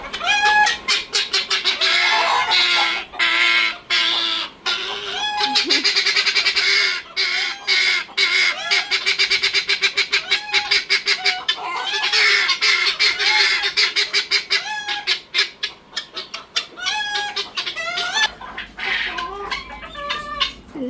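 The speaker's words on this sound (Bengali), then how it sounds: "পিসির মুরগিগুলো আসলে অনেক বেশি চিল্লাচিল্লি করে" Farm chickens squawk and cackle loudly and almost nonstop, harsh overlapping calls close by with brief gaps, and no talking.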